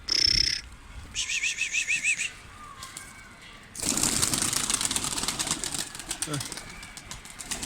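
Pied pigeons cooing and calling in short repeated bursts close by, followed by a rush of wing flaps and rustling as the birds take off, with a person talking over part of it.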